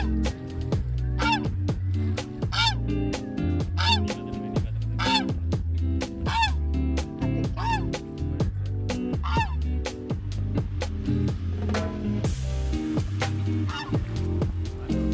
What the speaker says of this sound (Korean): 근처로 다가가니 거위가 겁이 났는지 경고음을 내기 시작해요.